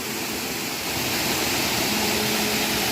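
Kasilak Farm waterfall in New Cortez pours in a constant dense roar, near and loud, swelling slightly midway with no voices over it.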